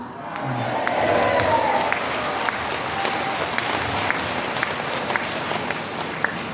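Church congregation applauding an elder after his remarks, a broad steady patter of clapping from a crowd that swells early and then holds evenly throughout, with some scattered louder claps.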